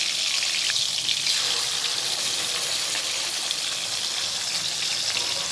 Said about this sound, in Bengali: তেলটা ভালোই গরম হয়ে গেছে একটু করে চিকেন দুটি করে চিকেন পিস দিচ্ছি